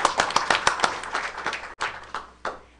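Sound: audience applause for art winners

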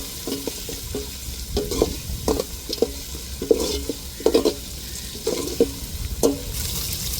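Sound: sautéing ground ginger-garlic paste in a pan

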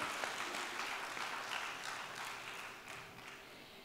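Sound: audience applause at summit opening speech

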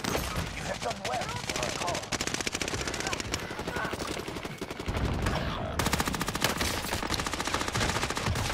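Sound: gunfire in a video game

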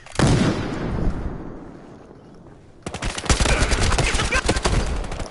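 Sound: grenade explosion in the video game Battlefield Hardline

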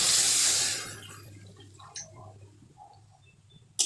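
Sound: spice-rinsing water poured into cooking meat

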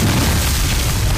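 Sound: hand grenade explosion in war drama

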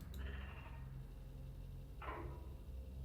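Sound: pig animatronic making a sheep bleat in a video game

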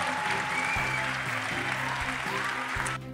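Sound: crowd applause at college decision day

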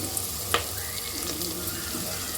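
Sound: onion and green chilli pieces frying in a pan

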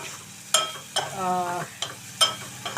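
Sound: dried prawns frying in oil

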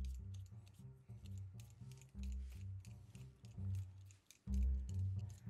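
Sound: peeling freshly washed potatoes

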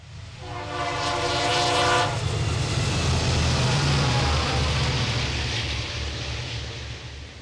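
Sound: Santa Fe 1978-built GP-40X diesel locomotive train passing

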